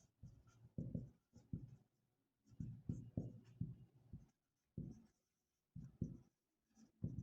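A pen or pencil scratches across paper while a math solution is worked out, in short bursts of close, rhythmic strokes broken by brief pauses, with no talking.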